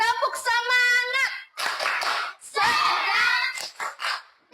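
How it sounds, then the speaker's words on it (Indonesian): A fifth-grade class performs a rhythmic spirit clapping chant, with bursts of children's hands clapping in patterned groups alternating with a teacher's voice and pupils' voices, loud and close in a classroom. "Kita tepuk semangat dulu ya."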